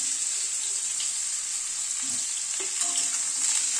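Radish and flat beans sizzle steadily in hot oil in a pan, a continuous bright hiss with faint stirring clinks, close and fairly loud, no voices.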